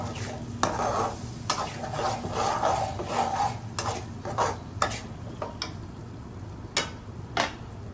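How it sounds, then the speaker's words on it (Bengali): Goat meat pieces with bone and fat go into a spice paste fried until the oil separates, giving repeated scraping stir strokes and sharp clacks over a low sizzle. "এখন আমি মাংসটা দিয়ে দিই"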